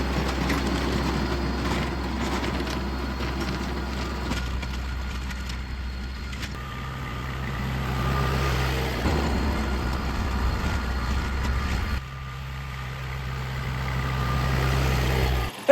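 A compact tractor with a rear tiller runs at wide open throttle during a quick pass over a bean plot, giving a steady low engine drone with a brief dip in the middle and no voices.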